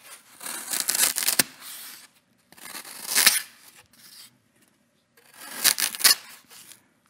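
Excess foam being cut off by hand, three separate bursts of rough sawing and rasping strokes with quiet gaps between, close and moderately loud.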